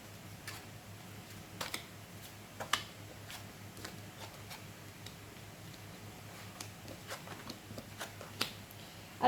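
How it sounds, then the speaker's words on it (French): Tarot cards are drawn from a deck one at a time, producing soft, sparse ticks and light shuffling snaps with quiet pauses between them, close and faint, no talking. "Je vais tirer 5 cartes."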